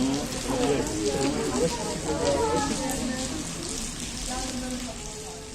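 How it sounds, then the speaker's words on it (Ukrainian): Steady rain patters and hisses on surfaces while people talk nearby underneath it. "Тут тим часом дощ іде."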